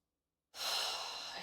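A single deep breath taken during a square breathing exercise, rising suddenly from silence into a steady, airy rush that holds close and even for about a second.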